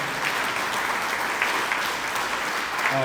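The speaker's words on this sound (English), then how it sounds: "we can clap for Joy, she's here" Audience clapping at a community recovery gathering, a steady wash of applause from a modest crowd lasting a few seconds, moderately loud and continuous without speech.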